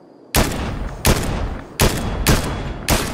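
Gunshots in Fortnite, five loud booming blasts spaced roughly every three-quarters of a second, each with a long rumbling tail, close and heavy with no talk over them.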